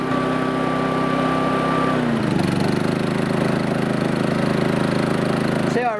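A Yamaha EF2400iS inverter generator runs at a steady idle, with a constant close mechanical hum and drone that lowers in pitch partway through and then holds even for the rest of the clip.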